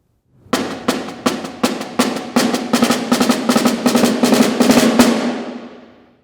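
A snare drum plays sixteenth-note rolls at tempo 20 with no buzz strokes, starting as crisp separate taps that quicken into a dense, loud stream of strokes, then stopping and ringing away.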